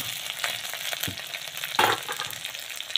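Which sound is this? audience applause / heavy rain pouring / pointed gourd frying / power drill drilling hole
pointed gourd frying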